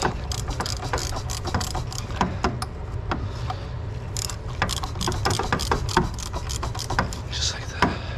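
Ratchet wrench tightening an M10 triple square bolt on a 2009 Audi A5 during coolant crossover pipe work, a rapid string of sharp clicks over steady low shop hum, close and fairly loud, with a few stronger metallic snaps.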